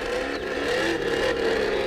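Traxxas RC drag car on a 2s battery, launched in a test hit: a continuous high-pitched electric motor whine, loud and close, rising with a slight wavering as it accelerates.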